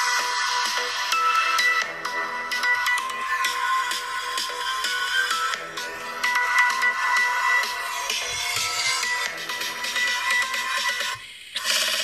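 A Sharp Aquos S2 smartphone's loudspeaker plays YouTube audio, a steady, bright, thin-sounding stream of music that fills the clip almost continuously with only a brief dip near the end.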